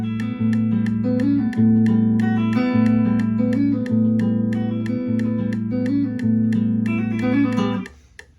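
An electric guitar plays a song's riff in a repeating 7-beat pattern against faint metronome clicks, clean and steady, fading out at the end.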